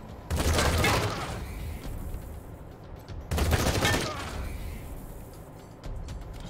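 Two loud bursts of gunfire in the game Wasteland 3, each a heavy volley of shots followed by a fading rumble, then a quieter trailing shot near the end.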